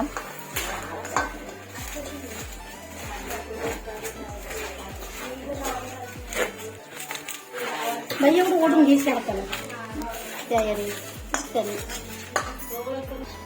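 Sugar syrup poured over toasted sesame seeds and mixed in a pot, heard as repeated metallic clinks and scrapes of a spoon against the vessel, close and busy, with people talking over the clatter.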